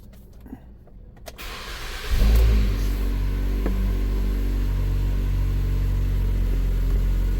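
A car's A/C compressor is switched on by a scan tool: after quiet idling, a sudden clunk as the clutch engages, followed by a steady, louder hum and whir that continues to the end.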